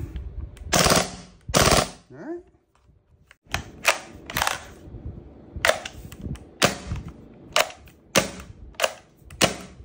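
A Krytac KRISS Vector gas blowback airsoft SMG fires in sharp, loud bursts of rapid cracking shots, several short strings separated by brief pauses, close to the listener and with no talking.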